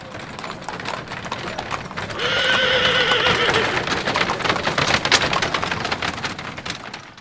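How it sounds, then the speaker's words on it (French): A harnessed horse bolts, letting out a loud, shrill whinny midway while rapid hoofbeats clatter in a quick galloping rhythm throughout, close and alone without talk. "un cheval attelé prend le mort aux dents."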